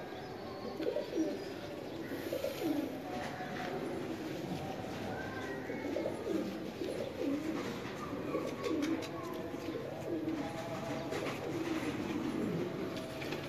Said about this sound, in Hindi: ये देखें माशाल्लाह कैसा कबूतर